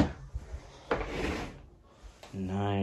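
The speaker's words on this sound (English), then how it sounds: "I'm gonna put my chair back" An office chair being rolled and pushed back up to a Greenforest L-shaped desk, with short scraping and bumping sounds under a person's speech.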